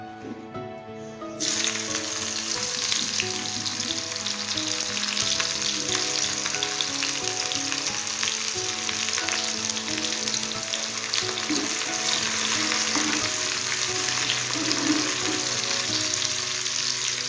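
Chopped onion hits hot oil in a wok with a sudden burst, then a loud, continuous sizzle and crackle of frying that holds steady throughout, with faint stirring and no talking.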